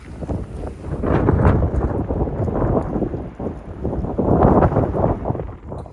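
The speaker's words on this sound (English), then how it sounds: "we just walked out of that crazy wind" Strong, gusty wind roars outdoors beside a motorhome, buffeting the microphone in heavy low rumbling surges that rise and ease throughout, with no voices.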